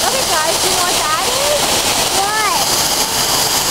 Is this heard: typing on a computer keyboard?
no